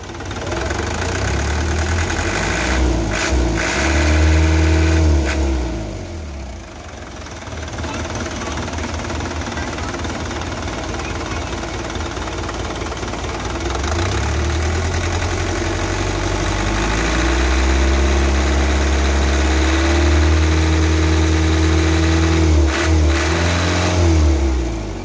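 A 1997 120 PS car engine runs loudly up close after starting, settling into a steady idle with a couple of revving swells and a faint knock, while people talk over it.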